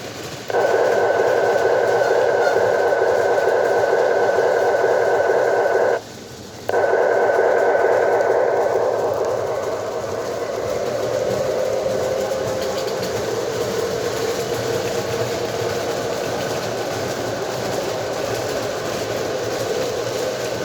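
An O gauge Weaver RS11 Union Pacific model locomotive runs slowly, giving a steady motor whir with a high tonal whine that cuts out briefly, then a softer continuous rolling hum, close by with no talking.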